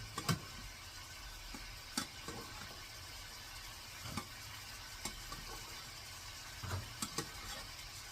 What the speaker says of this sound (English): I'm just going to stir and coat